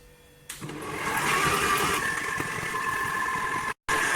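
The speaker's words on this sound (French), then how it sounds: "Je vais remettre mon robot pétrisseur en vitesse 1 pendant 1 minute." A stand mixer starts up at speed 1 and kneads Neapolitan pizza dough with a steady motor whir and a soft rhythmic churn. It runs evenly and cuts out briefly near the end.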